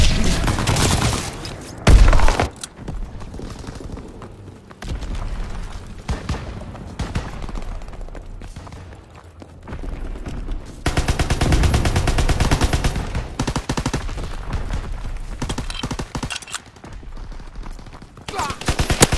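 Gunfire from a Call of Duty WW2 match: bursts of rifle and machine-gun shots, some sustained rattling stretches, a sharp loud blast near the start, and muffled battle noise between volleys.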